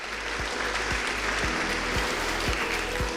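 A studio audience of farmers at a televised agricultural question forum applauds, a steady wash of clapping with a rhythmic low thump recurring beneath it throughout.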